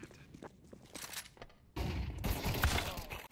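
Gunfire rattles through a Counter-Strike match, a scattered burst of shots at first, then a louder, dense volley of rapid gunshots from about halfway that runs to the end, with no talk over it.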